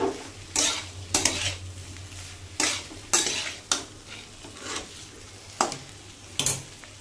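Papaya and mung dal curry being stirred and sautéed in a pan, with a steady sizzle broken by repeated scraping clatters of a spoon against the metal pan, close and fairly loud.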